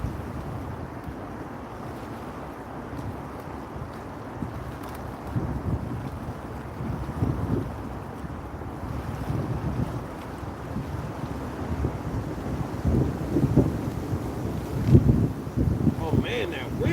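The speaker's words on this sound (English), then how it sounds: "Oh man, that wind. I heard it coming." Cold wind gusts outdoors on a catfishing trip, a continuous rushing roar buffeting the microphone that swells stronger in the later part, with no clear voices over it.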